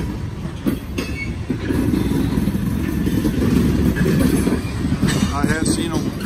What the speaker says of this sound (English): Six axle locomotive way down there because they don't run six axle units on the grain spur.